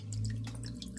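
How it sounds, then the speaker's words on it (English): Water runs steadily into a hydroponic lettuce growing system, a continuous filling and dripping trickle that is close and fairly loud, with no talking. "we're filling it with water right now"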